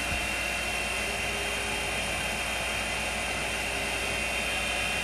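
A Kawasaki KH400 motorcycle engine runs steadily at about 3500 RPM, giving a loud, constant buzzing drone with no break across the clip.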